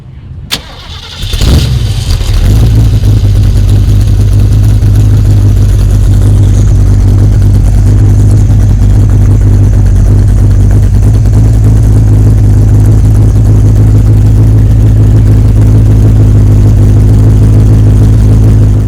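A Ford Cleveland V8 car engine at an outdoor car show cranks over and fires, then settles into a loud, steady, deep rumbling idle that continues close by without a break and with no talk.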